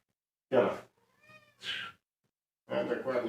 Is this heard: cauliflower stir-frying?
no